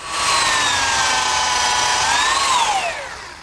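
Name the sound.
drill pre-drilling and screwing umbrella stand lid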